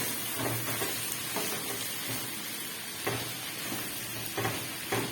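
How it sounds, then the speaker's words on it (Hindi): Mutton pieces fry in a pan with ginger and garlic, giving a steady soft sizzle with occasional louder crackles and stirring scrapes, fairly quiet and with no talking. "अदरक लहसुन डाल के मैंने इसको अच्छी तरीके से इसकी भुनाई कर ली है।"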